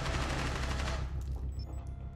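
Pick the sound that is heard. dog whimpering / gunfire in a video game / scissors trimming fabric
gunfire in a video game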